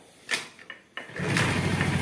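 A Honda Vario 110 scooter is kick-started: a few sharp mechanical clunks from the kick lever, then the engine catches and settles into a steady low running note nearby.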